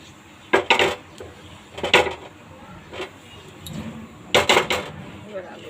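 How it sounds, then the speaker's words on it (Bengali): Bay leaves and cumin stirred in a pan for banana flower ghonto, with a few clustered clinks and scrapes of a spatula against the metal pan, close and moderately loud, in bursts separated by quieter gaps. "এরপর তেজপাতা আর জিরেটা একটু এরকমভাবে নেড়ে নিতে হবে।"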